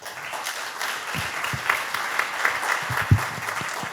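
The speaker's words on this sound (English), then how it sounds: "please join me giving a round of applause to Michael" Audience applause for Michael after a startup panel at an OIST healthcare day, with steady, moderately loud clapping from a seated crowd and a few louder individual claps standing out.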